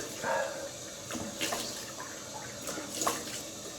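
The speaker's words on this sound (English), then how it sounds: "Cold water." Cold water runs from a bathroom tap during a shave, a soft steady splashing stream with a few brief clinks and louder spurts, fairly quiet and without voices.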